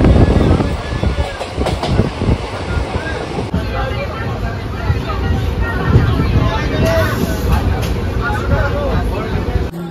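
The Hazarduari Express passenger train at Murshidabad station, a loud continuous rumble of wheels and carriages with rattling and clatter close by, with a voice talking partway through.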